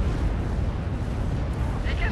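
Dense rumbling barrage of an off-map artillery strike in the war game Steel Division 2, a continuous roar of overlapping explosions filling the whole clip, loud and sustained.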